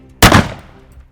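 A pump-action shotgun fires one polymer breaching round outdoors, a single loud close blast with a sharp attack and a short decaying boom, heard alone without talk.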